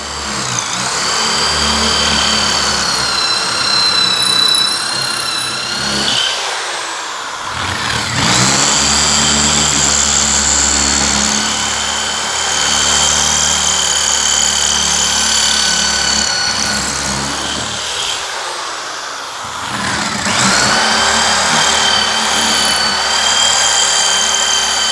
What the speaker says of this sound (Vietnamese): khi nó khoan bê tông thì nó khoan như thế nào ha